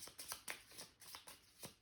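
Playing cards being shuffled for the Nemesis board game, a quiet run of soft riffling bursts roughly every quarter second, close and faint with no talk.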